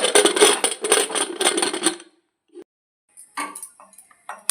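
A lidded metal pot is set down on a kitchen stove: a rattling clatter of metal for about two seconds, a pause, then a few lighter clinks and knocks.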